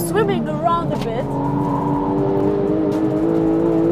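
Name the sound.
Porsche 991 car driving on track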